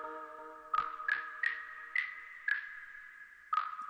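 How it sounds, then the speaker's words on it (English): Wood block sample with light reverb, six clear hollow knocks at uneven spacing over a sustained synth chord in a West Coast beat, each hit bright and ringing briefly. "Here's my wood block."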